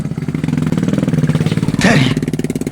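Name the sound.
motorcycle riding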